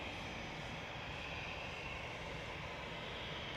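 A Boeing 737-800 jet at Manchester Airport gives a steady, distant broadband engine roar that holds evenly throughout with no break.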